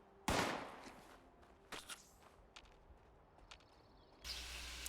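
A shotgun blasts once, loud and sudden, in Fallout 76, followed by quieter shuffling, a couple of fainter impacts and a rising mechanical tone near the end.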